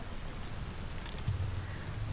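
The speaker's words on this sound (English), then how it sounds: "Still raining for them." Steady rain hiss with a low rumbling patter, continuous and fairly loud throughout, no voices, in the video game Detroit: Become Human.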